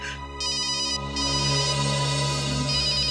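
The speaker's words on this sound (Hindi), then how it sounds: "किसका फोन है?" A phone ringtone plays loud and close, a continuous electronic melody with bright repeating tones sounding alone for the whole stretch.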